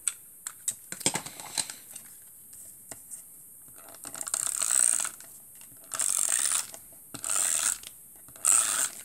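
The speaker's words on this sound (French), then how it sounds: "je vais coller avec la petite colle scotch là" A few light clicks and taps, then four short bursts of a dry ratcheting whir from a glue tape roller applying adhesive, close by, with brief quiet gaps between them.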